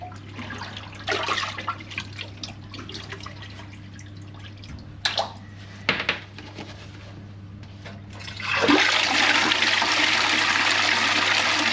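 A toilet just cleared of a blockage flushes with a loud, close rush of water that swells and keeps running, following several seconds of quiet drips and a few knocks under a steady hum.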